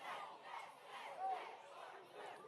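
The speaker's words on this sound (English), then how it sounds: "Crowd of Tallassee tuning up for the halftime show coming up next." A home crowd of Tallassee fans cheers and yells from the stands during a high-school football game, a faint, distant roar that swells and dips in waves.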